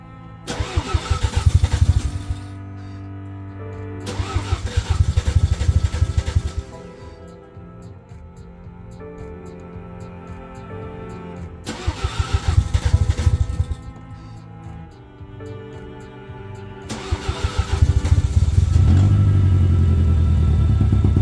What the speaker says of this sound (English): This is the first time to try and start the engine.